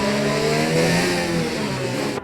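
A Mercedes race car engine in a racing video game revs loud and steady, a sustained buzzing drone that shifts pitch slightly as it accelerates, close and continuous with no talk.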